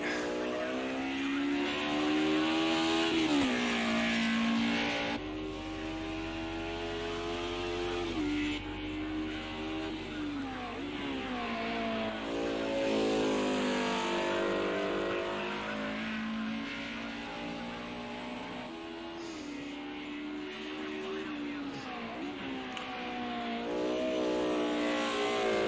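Race car engines revving and shifting on a circuit in a racing game, with rising and falling pitch sweeps as the cars accelerate through gears, steady and prominent throughout.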